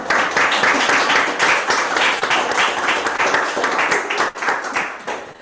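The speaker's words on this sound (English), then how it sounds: "So show another round of applause." Loud, dense audience clapping at a symposium talk, many hands close by in a sustained burst that thins slightly toward the end.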